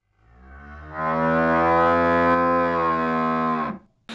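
A single long cow moo rises quickly and holds steady for nearly three seconds before cutting off, loud and close with no talking over it.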